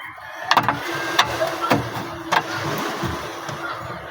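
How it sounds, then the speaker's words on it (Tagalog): A Shark Pro boat engine is started up close, with several sharp cranking bursts and pull attempts before it catches and settles into a steady mid-pitched running hum. "Yan ang makina ko, Shark Pro."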